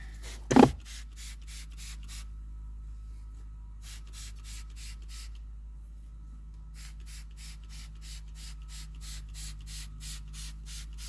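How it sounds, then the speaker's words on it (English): Short repeated spray bursts of cleaner misted onto the seatbelt of a 2010 Ford Fusion, in three evenly pulsed runs separated by pauses, near and soft over a low steady background hum. "we'll spray it down, and we'll agitate"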